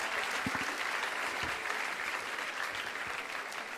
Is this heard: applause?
yes